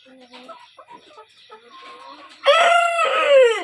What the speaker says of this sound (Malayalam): നമ്മുടെ പൂവൻ ആദ്യമായിട്ട് കൂകുന്നത്